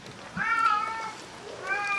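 A cat gives two clear, tonal meows in succession, close and fairly loud, with a brief gap between them and no talk over them.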